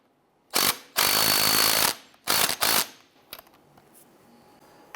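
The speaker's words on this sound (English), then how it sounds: "Go ahead and tighten down this clamp." A tool tightens the clamp on a tie rod adjusting sleeve of a 1999-2004 Jeep Grand Cherokee in a few close, loud mechanical bursts, one long and two short, then quiet rattling and handling noises.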